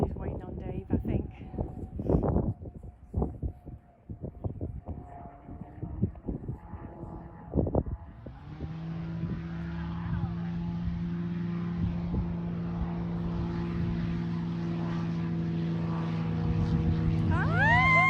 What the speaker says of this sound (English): You have an aircraft. We do. It's flying.